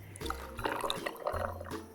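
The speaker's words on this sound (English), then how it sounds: "pour in your favorite cold brew" Cold brew coffee poured into a glass makes a brief splashing, gurgling trickle of liquid over about two seconds, close and moderately loud, without talk.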